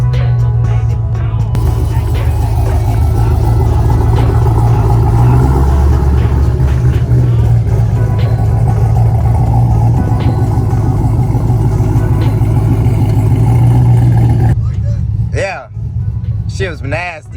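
Car with a built transmission under hard acceleration, a loud sustained engine roar heard from inside the cabin with shifts through the gears, ending in an abrupt drop to quiet.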